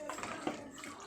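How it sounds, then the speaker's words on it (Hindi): Water pours into a pan of potato curry being made into a thin gravy, a brief steady splash and gush at close range with no talk. "अब डाल देते हैं पानी इसमें ग्रेवी के लिए।"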